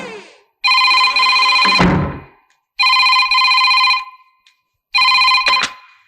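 Three loud, near telephone rings sound in evenly spaced bursts with silent pauses between them, part of a Tamil horror film scene, and nobody talks.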